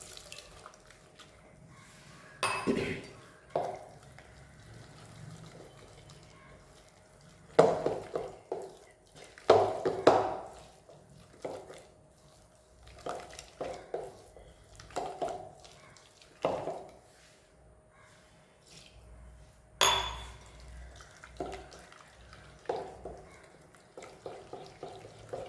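Rice flour being mixed with water into a loose batter, heard as intermittent quiet wet sloshing and stirring bursts separated by short pauses.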